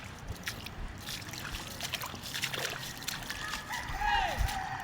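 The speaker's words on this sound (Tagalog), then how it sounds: "Sobrang laki ng baha." Floodwater after a typhoon flows and sloshes steadily, with a spread-out wash of water noise and people talking over it.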